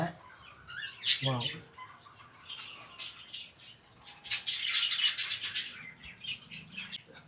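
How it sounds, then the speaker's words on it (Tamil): Pet birds kept together in one room at a pet farm chirp and tweet in quick bursts, with a flurry of wing flaps near the start and a dense run of chirping in the middle, moderately close and alongside faint room noise. "இந்த ரூமில் இருக்கிறவங்க எல்லாருமே பேர்ட்ஸு"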